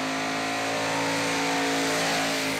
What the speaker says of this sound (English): And listen to the throttle.